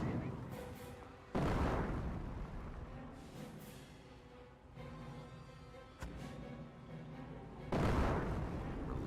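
Heavy artillery barrage from a Hummel self-propelled gun in Company of Heroes, with deep booming blasts striking at intervals, two large impacts standing out near the start and end amid a continuous rumbling battle din.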